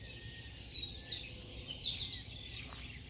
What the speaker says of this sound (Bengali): কুয়াশায় ঘেরা, পাখির কলকাকলি